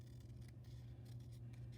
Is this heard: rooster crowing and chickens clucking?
no